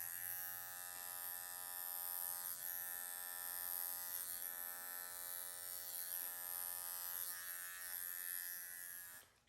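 A Bravura pet clipper on the 10 setting hums steadily and close while grooming a senior Yorkie, a continuous buzz lasting several seconds before cutting off.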